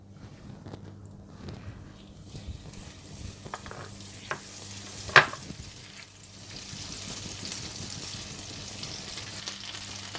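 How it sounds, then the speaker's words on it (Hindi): Chicken and chopped garlic fry in melted butter with a soft, steady sizzle. Occasional utensil clinks and a sharp tap come midway, and the sizzle grows a little fuller toward the end. "इसमें आप डाल दें चिकन और चॉप किया हुआ लहसुन। और इसे थोड़ा सा पका लें।"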